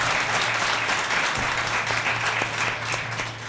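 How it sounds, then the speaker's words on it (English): Loud, sustained applause from a sizable crowd, dense clapping filling the whole stretch without pause. "Give yourselves a round of applause."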